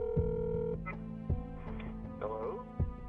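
An anonymous phone call in a Baltimore County homicide case, with a phone dialing, a series of short tones and beeps under a steady hum, as a narrator speaks over it.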